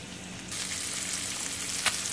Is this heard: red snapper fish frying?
yes